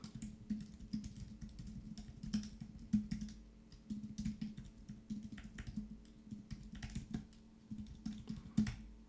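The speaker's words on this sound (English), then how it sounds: "My typing is terrible because I have my lights and stuff like that in the way here." Steady typing on a computer keyboard during a live data science class, a continuous run of quiet, close key clicks with small irregular bursts and no speech.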